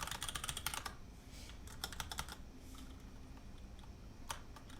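Typing on a mechanical keyboard fitted with light ABS DSA keycaps: bursts of fast, clacky keystrokes, fairly quiet and close, with short pauses between flurries and no talking.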